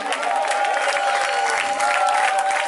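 A worship concert audience at a New Year praise and worship event applauds God with steady, dense clapping and some crowd noise, loud and continuous throughout.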